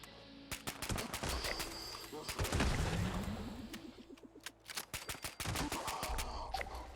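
Rapid gunfire from a weapon in Fallout 76, shooting at mole miners, with dense bursts of sharp shots continuing throughout amid game effects.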